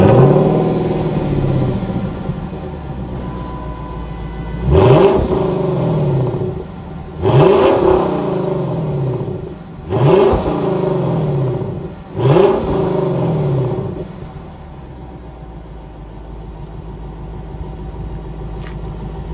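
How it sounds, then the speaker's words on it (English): A 2021 Lexus LC500 Convertible idles with a deep rumble after start-up, then gets four sharp revs in quick succession, each flaring up and settling back before the engine returns to a steady idle. "Quick start up, couple revs."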